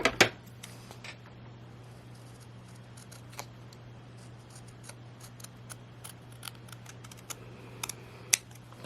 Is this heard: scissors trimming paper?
yes